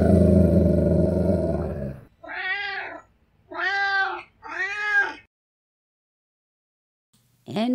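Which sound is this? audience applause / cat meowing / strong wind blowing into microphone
cat meowing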